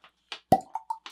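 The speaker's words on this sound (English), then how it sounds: "Hang on, what kind of cork pop we got here?" A cork pops out of a whiskey bottle with one sharp, loud pop, then a few smaller hollow plops and a brief secondary pop close by.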